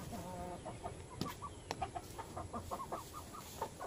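A mother hen clucks in a yard, giving a string of short, quick clucks at middling distance over a low background hiss.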